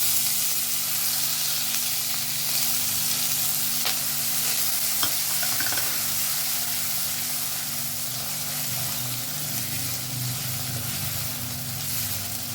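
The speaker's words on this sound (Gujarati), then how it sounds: "ડુંગળી આપણી થોડી ગુલાબી રંગની થાય ત્યાં સુધી આપણે એને સાંતળશું." Chopped onion sautéing with a pinch of asafoetida in a home-kitchen pan: steady, close sizzling and hiss with occasional soft stirring scrapes, continuous and even throughout.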